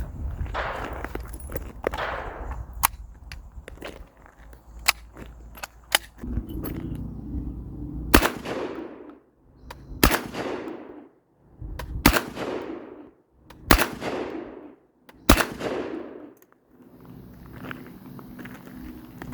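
A Panzer Arms BP12 bullpup 12 gauge semi-automatic shotgun, magazine fed, fires at a target about 10-15 feet away: six loud, sharp blasts spaced a second or two apart, each with a brief ringing tail, plus handling noise between shots.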